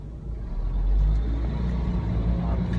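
Steady low engine rumble of city traffic in Sydney's CBD, a bus idling and pulling past close by, heard from inside a Toyota Corolla waiting at lights, continuous and fairly loud throughout.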